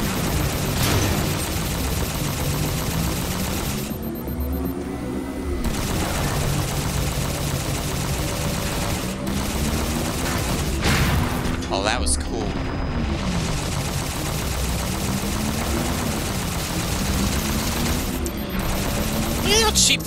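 Dense, continuous gunfire rattles through a Halo 4 firefight in the game's legendary campaign, with bursts and booms layered over droning engines while a person talks throughout.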